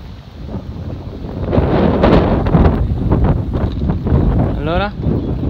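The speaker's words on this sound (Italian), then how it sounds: "Se non ci fosse tutto questo vento sarebbe perfetto." Strong wind in Tokyo buffets the microphone in loud, gusty rumbles, rising and falling throughout.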